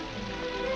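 Rain falls steadily in a brief, even hiss of drops on a surface in a 1947 film scene, with no voices over it.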